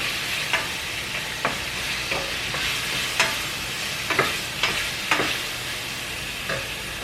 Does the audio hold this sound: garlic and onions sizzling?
yes